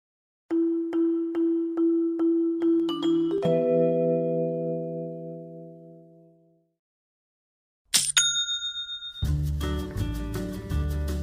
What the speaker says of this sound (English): You know that's the sound of another sale on your online Shopify store.